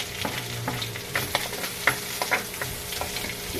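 Garlic sizzles and crackles in a hot frying pan while being stirred, a steady close frying hiss broken by several scraping clicks of the utensil against the pan.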